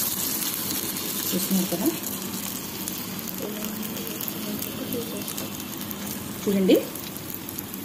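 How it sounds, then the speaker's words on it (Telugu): Small balls of sago batter (punugulu) fry in hot oil, giving a soft continuous sizzle and crackle under a person talking nearby. "ఇలా వేసుకొని ఒక 5 మినిట్స్ అనేది ఫ్రై చేసుకోండి, ఫ్రై అయిపోతుంది।"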